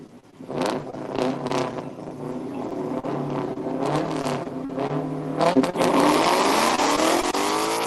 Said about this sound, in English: So Ford Mustang ready to roll up in your left lane